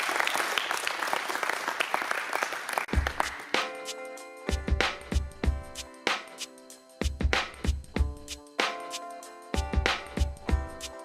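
An audience at a close-combat event in northern France applauds a man named Gérard, a brief burst of clapping that gives way to loud rhythmic music with strong beats.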